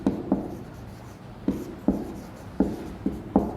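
Pen or chalk writing out a Hindi example, a series of short scratchy strokes at irregular intervals, close and fairly quiet, with no talking.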